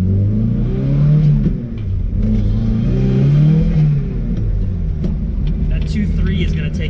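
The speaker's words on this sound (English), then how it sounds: "I gotta take it a little bit easy just for the first couple takeoffs here." Mazda Miata fitted with a ZF 5-speed transmission accelerating from a standing takeoff, its engine rising and falling in pitch through the gears, close and loud, with someone talking over it.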